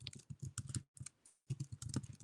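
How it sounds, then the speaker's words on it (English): Typing on a computer keyboard, a quick run of crisp key clicks, a short pause, then another burst of keystrokes, close and fairly quiet. "I can click on there, and then I can type in business"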